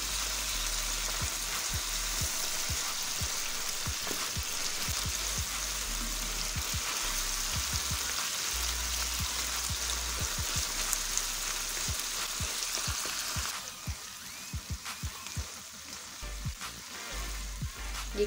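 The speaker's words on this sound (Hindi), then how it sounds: "ये कीमे को ऑयल में फ्राई कर रहे हैं।" Minced meat fries in oil, a soft continuous crackling sizzle like light rain with faint stirring taps, moderately quiet and steady, thinning out near the end.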